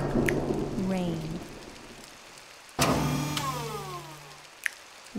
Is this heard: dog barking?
no